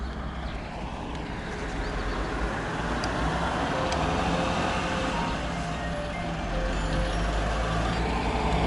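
A police patrol car pulls away from a roadside checkpoint in Zolochiv, its engine and tyre rumble holding steady and fairly loud over outdoor traffic noise.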